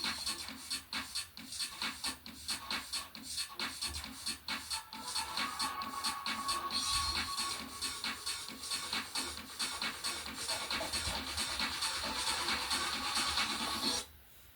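Electronic intro of a song, dense and continuous with a steady driving beat, sustained bright synth layers and a swelling texture, cutting off abruptly at the end.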